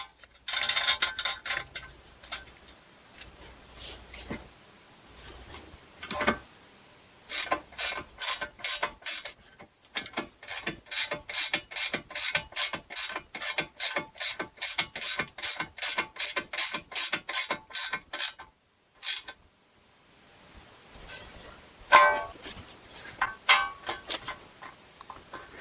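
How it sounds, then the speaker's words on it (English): Torque wrench tightening an inner tie rod nut on a 2010-2016 Buick Lacrosse, Regal or Chevy Impala, a run of close, crisp ratchet clicks in quick rhythmic strokes, with short pauses between sets and a brief silence near the end. "Then we're going to torque this to 26 foot-pounds plus an additional 30 degrees."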